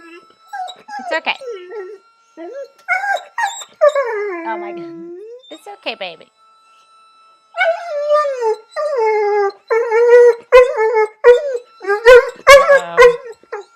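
A dog named Romeo whimpers and howls in a home office, its high, wavering cries rising and falling repeatedly, close and fairly loud, mixed with a person speaking soothing words to it.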